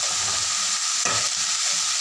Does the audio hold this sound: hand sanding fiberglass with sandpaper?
no